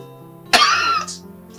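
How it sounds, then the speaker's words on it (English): A woman gives a single sharp, rough cough close by, a short burst that trails off quickly into quiet. "See the way you're coughing."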